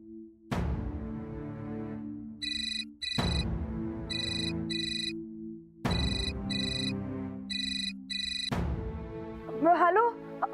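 A phone rings out in steady repeated bursts of a tonal ringtone pattern while a call is placed, four cycles evenly spaced, fairly clear and close, with a brief voice at the very end.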